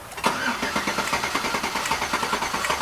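A Chevy Avalanche engine with a misfire and an oil-fouled spark plug cranks steadily for nearly three seconds, with fast, even starter pulses sounding close and fairly loud, and no voices.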